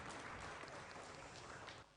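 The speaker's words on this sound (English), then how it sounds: "Let's give a round of applause to Dr." Audience at a national science-communication competition final clapping together, a continuous burst of applause that is faint and distant and then tapers off.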